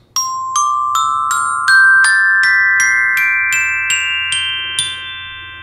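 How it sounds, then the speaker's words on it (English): Soprano glockenspiel struck with wood mallets, about a dozen bright ringing notes stepping up a scale at an even pace, each clear and close with a short decay. "we play the glockenspiels with either rubber or wood mallets, and these are the wood ones, and it sounds like this."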